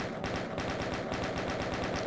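Rapid chain gun fire in the classic DOOM shooter, a loud, dense stream of overlapping shots hammering steadily without pause through the whole stretch, with no voices.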